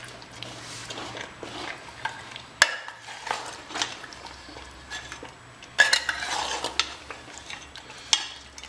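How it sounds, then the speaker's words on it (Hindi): Mutton curry masala being stirred and roasted in a pan, with a utensil scraping and clinking against the metal in irregular bursts and a few sharper knocks over a low background hum; no one speaks. "एक बार हम इसकी और भुनाई कर रहे हैं।"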